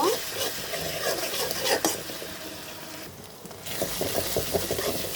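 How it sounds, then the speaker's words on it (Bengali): Ginger and garlic paste fries in a pan for a pangas fish curry, a dense continuous sizzle with scraping stirs and a brief dip near the middle, no voices. "আদা এবং রসুন পেস্ট। এটাকেও একটু ভেজে নিব।"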